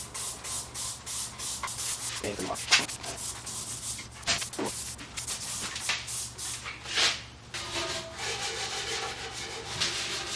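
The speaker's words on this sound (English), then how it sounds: "I'm going to spray some of this grease lift all over it and let it sit, and then scrub it off" Repeated bursts of hissing degreaser spray and rhythmic scrubbing strokes on a Honeywell air compressor, close up, with irregular pauses between them.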